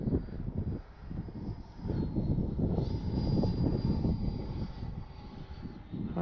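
A Freewing 80mm Avanti S V2 RC electric ducted-fan jet flies overhead with a steady, continuous whooshing drone that swells slightly midway, heard outdoors with some wind noise on the microphone.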